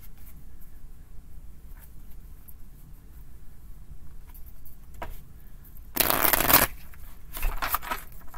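Tarot cards shuffled for a reading, a quiet room broken by a brief burst of riffling near the end and a shorter second shuffle after it, close and fairly loud.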